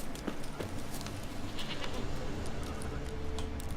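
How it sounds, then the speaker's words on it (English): A goat bleats in The Witcher 3 video game amid a dense wash of ambient game sound, several short bleats heard at moderate distance with no talk. "There's the goat."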